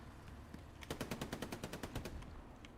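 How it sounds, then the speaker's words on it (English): A machine gun in the World War II shooter game Hell Let Loose fires a rapid burst of about a dozen evenly spaced shots from a position holding a field, over a low rumble of background battle. "As we're looking here at Pio with the MG, just holding this field down"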